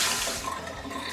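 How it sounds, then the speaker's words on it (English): Tap water runs steadily over potatoes being rinsed in a kitchen sink, a loud, broad rushing splash close to the mic with no talking. "Just rinse them really well with water."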